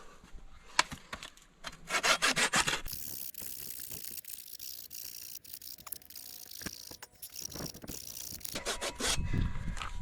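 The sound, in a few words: sawing a wooden pickaxe handle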